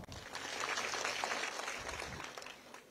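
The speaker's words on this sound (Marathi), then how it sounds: "महबूबबाईसाठी टाळ्या वाजवा." An audience claps at a political rally in Beed, India, a dense, sustained round of applause that swells and then tapers off over about three seconds.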